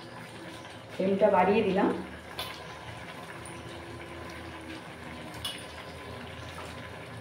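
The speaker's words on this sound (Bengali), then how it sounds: "সর্ষে বাটাটা একটু বাটিটা ধুয়ে একটু জল দেবো।" Water pours from a rinsed mustard-paste bowl into a cooking pan in a home kitchen, heard as a brief gushing splash lasting about a second, close and moderately loud, followed by quiet kitchen background with a voice speaking.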